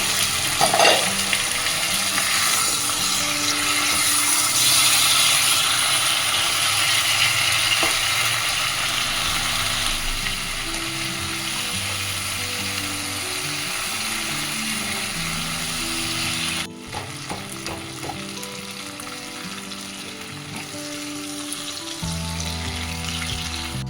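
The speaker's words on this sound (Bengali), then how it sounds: "আলু ভাজা হচ্ছে তার মধ্যে আমি এটা দিয়ে দিচ্ছি" Potatoes and fish heads fry in a pan with a steady, loud, close sizzle that runs without a break, with a few clanks and shifts partway through and no talking.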